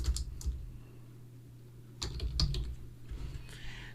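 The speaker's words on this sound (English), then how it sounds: "What I'm going to do is I'm going to type in brick." Keystrokes on a computer keyboard while typing a search term, a few quiet scattered clicks in two short bursts over a low steady hum, fairly close but faint.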